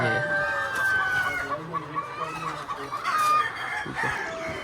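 Hens clucking and squawking close by in a poultry farm egg-laying shed, with overlapping cackles and calls layered under a person talking.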